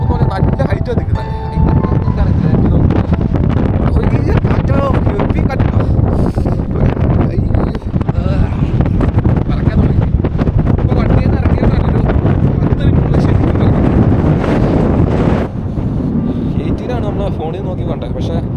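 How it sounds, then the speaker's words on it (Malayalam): Strong wind buffets the microphone at a high, cold hilltop viewpoint at Thalanar near Valparai, a loud continuous roar with gusty surges that swamps the whole recording. "അയ്യോ കാറ്റൊന്ന് കുറഞ്ഞിട്ട് കയറാം."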